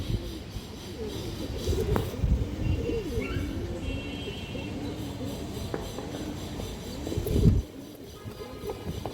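Indian high-flyer Kaldom pigeons coo softly in repeated low, rolling phrases close by, with some background rustle and a brief louder knock near the end.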